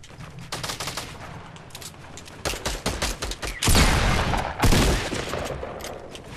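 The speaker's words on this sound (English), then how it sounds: "Oh, that's you shooting him out." Gunfire from a Fortnite Battle Royale match on Xbox: scattered single shots build into rapid automatic bursts, with two loud, sustained volleys close by near the end and no talking over them.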